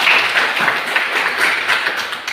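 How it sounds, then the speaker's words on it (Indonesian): A short burst of classroom clapping for a student, lasting a couple of seconds with uneven, scattered claps from a small group. "Tepuk tangan dulu untuk Nelson."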